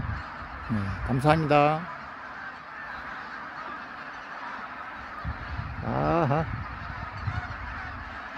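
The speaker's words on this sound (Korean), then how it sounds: "철새들 다 어디서 날아왔나?" A flock of migratory geese over the sea at dusk honks in two bursts of overlapping, wavering calls against a steady background hiss of wind and distant noise, with a few short spoken words.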